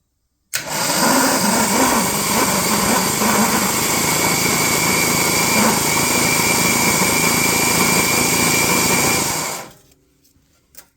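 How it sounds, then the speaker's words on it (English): The starter motor of an XJR6 cranks the engine over through a shorted relay, a steady loud whirring drone that runs for about nine seconds, then winds down and stops. "So this is me shorting out the relay for the starter motor down here."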